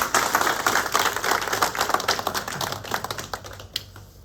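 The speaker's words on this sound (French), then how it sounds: "Veuillez l'applaudir, s'il vous plaît." Applause from an audience at a public address on an amnesty law, dense overlapping claps fairly loud and steady, thinning toward the end.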